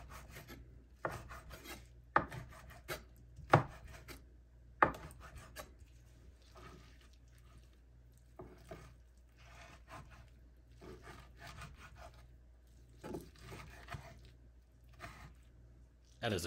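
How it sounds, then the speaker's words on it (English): Knife chopping grilled zucchini into pieces on a board, with faint, irregular thuds and scraping cuts, a few sharper knocks, quiet and close with no talk over them. "And just chop those up into manageable pieces"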